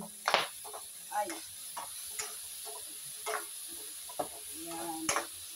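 Garlic, onion and tomato sauté in a pan for pakbet, a soft background sizzle broken by repeated sharp clicks and scrapes of a spatula stirring at uneven intervals.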